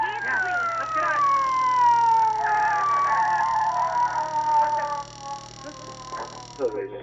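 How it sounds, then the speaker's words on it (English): A police car siren wails in a radio drama, one long falling tone that sweeps down steadily, fairly loud, and then cuts off near the end. "McGee, I hear a siren"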